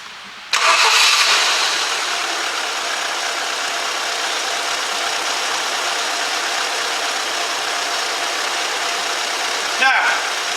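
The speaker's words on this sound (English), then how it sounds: "I need to start the car just to make sure that it's not missing." A Ford Fiesta engine starts after a spark plug change during a full service in a garage: a short crank catches and settles into a steady, even idle, with a brief voice near the end.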